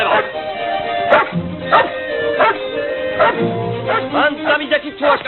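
Several dogs bark and yelp in quick, loud bursts close by, mixed with shouting human voices throughout.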